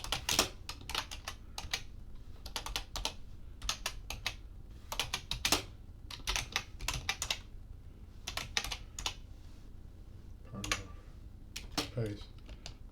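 Text typed on a computer keyboard comes as quick bursts of close, crisp key clicks with short pauses between runs, while a voice speaks faintly near the end.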